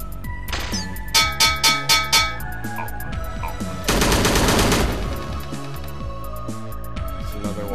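Rapid bursts of gunfire from a German gun in a keycard-hunting video game, a quick string of about five sharp shots followed by a sustained dense volley over game music, with further scattered shots afterward.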